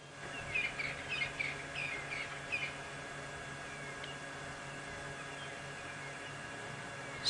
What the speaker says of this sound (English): You can also hear all the birds starting to chatter away now too.